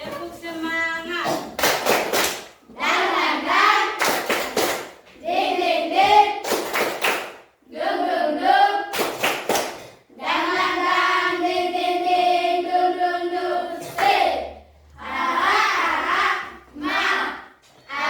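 A class of children performs a rhythmic spirit clap, bursts of patterned clapping alternating with brief pauses and shouted chant, lively and close, repeating several times.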